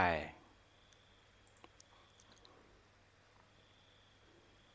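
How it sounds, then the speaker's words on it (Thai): A few faint, sparse clicks from a computer mouse on a Next button follow a brief voice at the start, set against quiet room tone. "เสร็จแล้วเราก็คลิกถัดไป"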